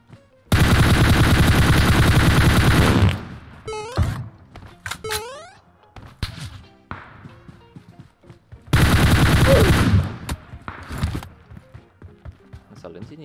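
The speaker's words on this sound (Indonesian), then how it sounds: "Wah dia nembakin dari jauh lagi." Bursts of gunfire in PUBG Mobile from a shooter at a distance: two long, dense volleys separated by scattered single shots and clanks. A voice talks over parts of it.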